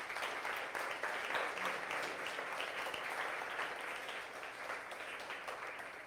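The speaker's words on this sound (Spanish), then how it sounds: "Denle un aplauso a Jesús." A church congregation applauds during a service, sustained clapping that fills the room for several seconds and slowly fades a little.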